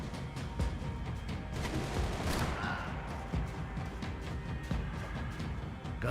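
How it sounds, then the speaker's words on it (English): Dense, steady gunfire crackles through a firefight in the Max Payne 3 video game, with rapid overlapping shots and booms filling the whole stretch at a constant loud level. "Gunfire over Hoboken."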